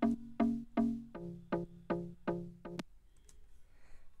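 Synth chords spread wide with a sample delay: eight short stabs in a steady, slightly accelerating rhythm, each with a bright attack and quick decay, followed by a faint tail.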